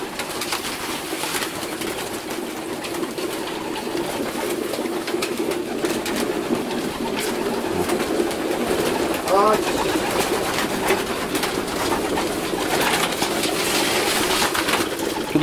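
Flock of young racing pigeons at a loft during their arrival, with steady cooing and bird chatter, plus faint fluttering and rustling. People talk in the background throughout.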